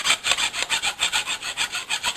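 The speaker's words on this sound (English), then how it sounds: "Now we've got a sharp edge in here, and I'm just going to hit it real quick with the file." A hand file rasps across a sharp metal edge in quick, regular back-and-forth strokes, about a dozen close, loud scrapes in an even rhythm, with no voices.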